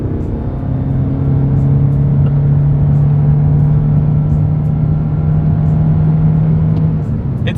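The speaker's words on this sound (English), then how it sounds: "let's see how quickly we can get our new 2025 Corolla Hybrid here up to speed" 2025 Toyota Corolla Hybrid with two electric motors accelerating from a standstill, heard as a loud, steady cabin drone with a sustained motor whine that holds and slowly climbs.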